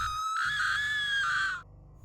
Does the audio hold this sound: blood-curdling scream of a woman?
yes